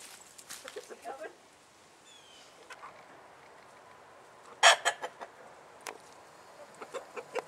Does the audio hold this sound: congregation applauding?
no